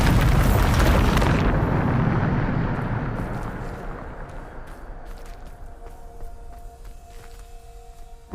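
Bombarda spell blast in Hogwarts Legacy: a loud booming explosion that bursts at once, then rumbles and slowly decays over several seconds, with scattered debris clatter trailing off.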